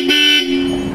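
A Bosch Europa horn fitted to a Toyota Fortuner blares loudly and close, one steady two-tone honk held for about a second with no talk over it.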